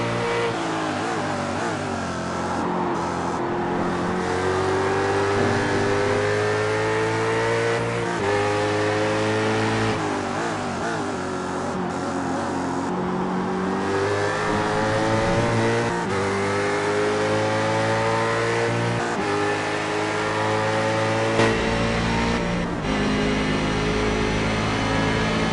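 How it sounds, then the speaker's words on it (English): Onboard a Daytona prototype race car lapping Road America, the engine roars steadily and loud throughout, its pitch climbing through the gears and dropping sharply on each shift and under braking. "Go on board with Anthony Koenig for a lap of Road America in the Daytona prototype"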